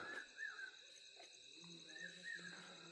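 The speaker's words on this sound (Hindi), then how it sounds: "रात की आवाज़ें, सारे झींगुर, पीकॉक" Crickets chirp steadily in a quiet night setting, a continuous high trill with a few soft, brief calls rising over it.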